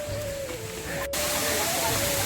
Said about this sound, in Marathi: धबधब्याचं पाणी वाहते वरून संपूर्ण